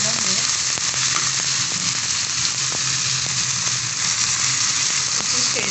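Green chili sizzling in hot ghee in a pan for an Indian stuffed bhindi dish, a steady close frying crackle with occasional stirring clicks, no voices.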